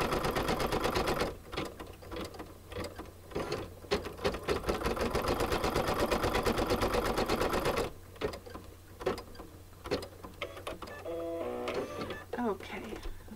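A Brother embroidery sewing machine stitching an in-the-hoop appliqué Easter egg coaster, fast loud mechanical whirring that runs steadily, stops, then resumes in shorter bursts, with a person talking during the pauses.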